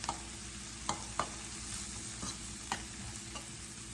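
Shrimp and mushrooms sizzle in a pan for a sandwich filling, with a constant quiet frying hiss broken by a few sharp utensil scrapes and taps.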